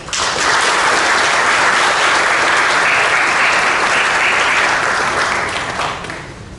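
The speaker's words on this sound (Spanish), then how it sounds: "damos la bienvenida con un fuerte aplauso" An audience at a regional symposium applauds to welcome a speaker, the loud, dense clapping of a crowd sustained for several seconds before it tapers off at the end.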